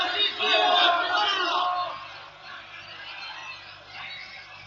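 A large crowd shouts and roars before Pilate in a dramatized scene, a loud massed outcry that swells early and then settles into a sustained, rowdier murmur of many voices.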